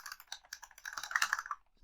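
Fingers type rapidly on a computer keyboard while tuning a Nissan 370Z with EcuTek software, producing a quick, irregular run of close, crisp key clicks and taps with no talking.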